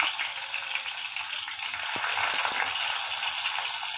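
Small shallots sliced lengthwise sizzle steadily in hot oil in a kadai with fenugreek seeds, a dense continuous crackle and hiss close up, with a couple of soft stirring knocks partway through.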